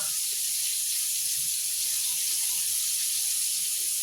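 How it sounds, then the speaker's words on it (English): A kitchen tap runs in a steady, bright hiss as hands are rinsed under it while preparing chicken tenders. The water is close and continuous throughout, with no voices. "First, I'm going to rinse off my hands."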